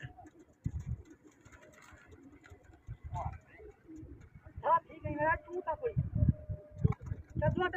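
Pigeons coo in a series of soft, low, rolling calls, several birds close by, while people talk throughout in the background.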